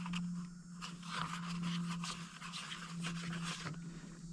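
A plastic chainsaw cover is unscrewed by hand. Close-up, rhythmic scraping and ratcheting plays over a low steady hum, with no talk.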